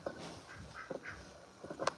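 A pet duck at a ranch gives several short quacks, close and fairly quiet, spaced irregularly with a louder burst at the end.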